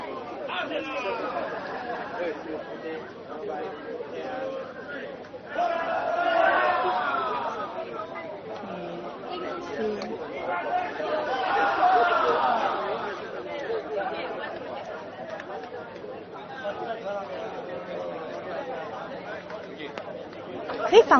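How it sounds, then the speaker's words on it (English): Crowd at a Singapore PAP election rally at Choa Chu Kang, a sustained hubbub of chatter and cheering swelling in louder waves around the middle, with a sharp burst at the very end. "The crowd is still roaring and cheering for the PAP members."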